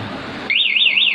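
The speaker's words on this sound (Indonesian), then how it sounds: "maka alarm ini akan berbunyi keras." A Yamaha NMAX 2020 scooter fitted with an aftermarket one-way alarm suddenly starts blaring halfway through, a loud, rapidly warbling electronic siren cutting in over steady background hiss.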